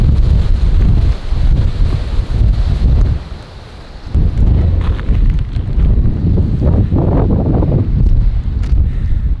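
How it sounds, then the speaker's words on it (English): Strong wind on a Somalia beach buffets the microphone in loud, continuous gusts with a low roar, easing briefly midway before picking up again. "Super windy"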